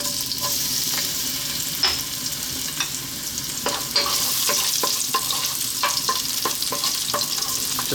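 Ginger pieces and star anise sizzle steadily in hot sesame oil in a wok, with a close, continuous frying hiss broken by repeated clinks and scrapes of stirring.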